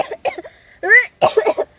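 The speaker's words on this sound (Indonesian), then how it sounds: "Nya hoyong batuk" A few close coughs in quick bursts, one drawn out with a rough, strained tone, followed by a throat-clearing sequence.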